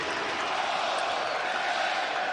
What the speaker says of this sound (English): now the crowd's into this game